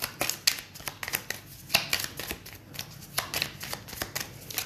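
Oracle cards being shuffled by hand, a steady run of soft papery riffles and flicks with quick irregular taps, close and quiet, with no talking.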